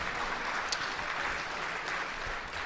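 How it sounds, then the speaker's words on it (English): A debate audience applauds the debaters with steady, sustained clapping that holds even in loudness throughout and has no speech over it. "give these guys a round of applause"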